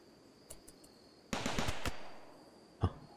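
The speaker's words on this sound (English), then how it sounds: "Oh, this turret's gonna waste this guy" A turret in the RimWorld video game fires at a raider: a short shot, then a dense rapid burst of automatic fire that rings out, and one final sharp shot, all fairly faint with no voices.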